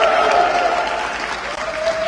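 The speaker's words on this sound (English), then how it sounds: "Give us a cheer." An audience at a UK F4 esports racing competition cheers and applauds, a dense, continuous clatter of clapping with crowd voices throughout the short burst.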